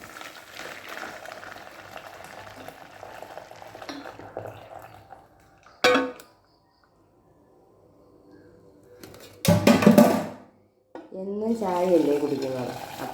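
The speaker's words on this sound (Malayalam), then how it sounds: "തിളപ്പിച്ച് വെക്കുന്ന പാല് അതിലേക്ക് ഒഴിച്ചു കൊടുക്കാം" Boiled milk is poured onto instant coffee powder in a home kitchen: a brief, loud splashing pour stands out after some quiet clinks and background kitchen noise, followed by softer liquid and stirring sounds.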